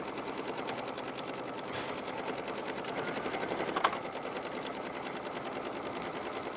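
An embroidery machine stitches the outline of an in-the-hoop zipper bag, a rapid, steady mechanical chatter of needle strokes, close and even throughout, with one brief louder tick midway.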